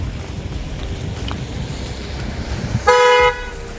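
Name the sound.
traffic and car horns on road in Mount Abu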